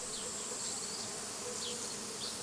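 Honeybees hum in a dense, steady drone, close and continuous, with individual insects now and then swelling briefly louder as they pass near.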